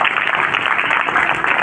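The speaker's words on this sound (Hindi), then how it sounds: "जोरदार तालियां, बहुत बढ़िया पंक्ति है" Dense, steady applause from an audience at a Hindi poetry recital, a continuous broadband wash of clapping throughout with no pauses.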